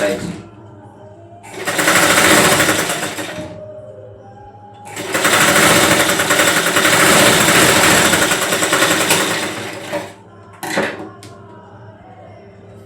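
Electric sewing machine stitching fabric in two long steady whirring runs, loud and close, with a brief third burst near the end and quiet pauses between.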